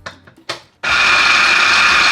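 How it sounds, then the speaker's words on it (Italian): A couple of light knocks, then a small electric food chopper whirs on loudly, chopping falafel mixture, running steadily at high speed, close by. "io questa operazione la farò un po' per volta, perché ho purtroppo il tritatutto molto piccolino"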